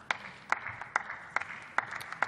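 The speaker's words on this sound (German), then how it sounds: "Danke für den Applaus, speziell aus der SPD-Fraktion." Sparse, rhythmic clapping from parliament benches, about six evenly spaced claps heard faintly from a distance under a quiet hall ambience.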